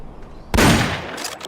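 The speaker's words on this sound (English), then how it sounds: "I heard gunfire!" In Metal Gear Solid: Peace Walker, after a brief quiet moment, a sudden loud burst of gunfire erupts, followed by a few sharper cracking shots.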